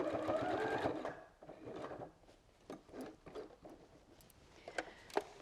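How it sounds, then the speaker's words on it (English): Sewing machine stitching a fat quarter tote bag: a steady whirring run of stitches at the start, then quieter stops, clicks and short bursts as the fabric is turned and repositioned. "put your foot down before you try and sew"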